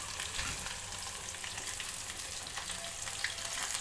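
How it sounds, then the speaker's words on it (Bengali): Fish frying in oil in a pan makes a constant, fairly quiet sizzle close by, an even hiss with faint crackles and no voices. "এক দফা মাছ ভাজা হয়ে গেছে, আরেক দফা চলছে।"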